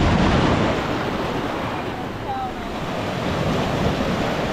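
Waves crash on a rocky shore at Bimini in the Bahamas, a broad surging roar mixed with wind buffeting the microphone, swelling and easing over a few seconds.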